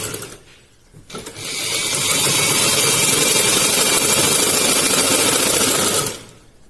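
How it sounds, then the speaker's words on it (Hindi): A sewing machine runs a long continuous stitching pass on salwar fabric, a steady loud whir with a brief pause and restart near the start, then stopping near the end. "अब जो दूसरी साइड थी यहाँ भी हम सिलाई लगा लेंगे"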